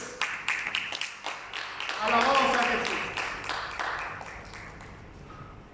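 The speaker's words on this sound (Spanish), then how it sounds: "¿Cuánto le da un fuerte aplauso al Señor?" A church congregation claps in quick rhythmic bursts that swell into brief applause, with a voice speaking over the clapping.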